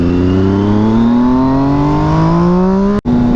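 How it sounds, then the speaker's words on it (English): A 2006 Triumph Daytona 675 triple engine revs loud and close, one long rising howl climbing steadily in pitch, then a short cut before it carries on. "The engine ran smooth, made good power, and that triple howl just had me hooked."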